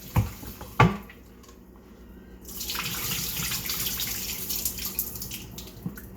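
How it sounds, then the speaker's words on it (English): Running cold tap water splashes steadily over oxtail meat being washed in a sink, starting after a couple of knocks and clatters, with no talking. "I'm giving the meat a second wash, but this time with cold water"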